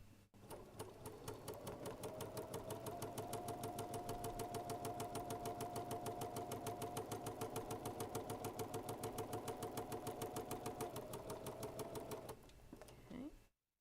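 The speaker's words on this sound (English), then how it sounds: "And now I'm going to sew on this diagonal line." Sewing machine stitching a diagonal seam across quilt units, a close, steady fast mechanical whir and needle chatter running continuously for about twelve seconds before stopping abruptly.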